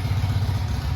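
A 1978 Harley-Davidson divorced Sportster chopper engine idles while warming up at first start, a steady loud low-pitched rumble with an even, loping pulse and no talk over it.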